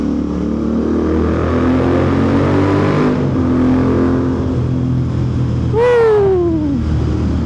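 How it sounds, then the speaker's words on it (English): Royal Enfield Interceptor 650 motorcycle engine droning steadily in a tunnel, then a sharp rev rising and falling near the end, loud and close. "Listen to that note that's coming out of this bike."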